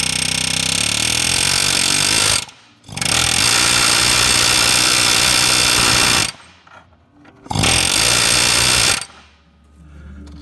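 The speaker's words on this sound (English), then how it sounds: "air hammer with a blunt bit on the end, or blunt head, and I mushroom the end of that stud" Pneumatic air hammer fitted with a blunt bit pounding the end of a stud on an exhaust manifold, mushrooming it over the nut; loud, close, rapid-fire hammering in two long bursts with a pause between, then a brief tail.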